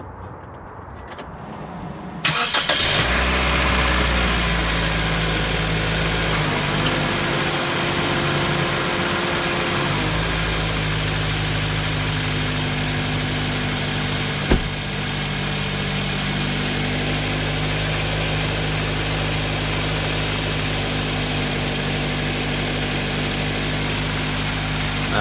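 A 2007 Toyota Corolla engine idles after an exhaust manifold repair, catching after a brief silent start and then settling into a steady, even low hum that runs on unbroken, with one short click partway through and no talking.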